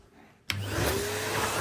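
A vacuum cleaner starts up abruptly partway through and runs at a steady, loud roar while going over the floor around dining chairs in a home.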